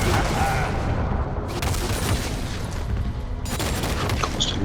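Heavy cannon barrage in League of Legends as Gangplank fires his ultimate, a dense, continuous roll of booming explosions and gunfire-like blasts, loud and sustained, with a voice briefly under the barrage.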